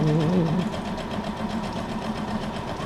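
A sewing machine stitching pages of a junk journal made from a Little Golden Book, a steady, fast mechanical whirring hum running continuously and fairly close, with a brief tonal whine at the start.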